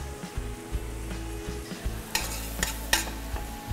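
Veal marsala simmering in a pan as a spoon stirs and turns it, a soft continuous sizzle with light clinks and scrapes of the utensil against the pan, close and moderately quiet with no talking.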